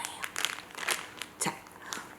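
Banana squeezed and pressed inside a plastic bag, giving soft crinkling and crunching bursts in several short irregular presses, fairly quiet and close.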